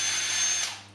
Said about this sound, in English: it's a great drill, but the speed, I mean, is no good. It's too fast.